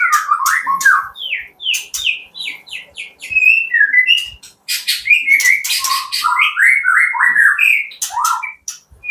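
A magpie-robin sings close and loud, a rapid varied stream of whistled phrases and chirps with short pauses between bursts.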